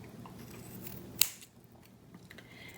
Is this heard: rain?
no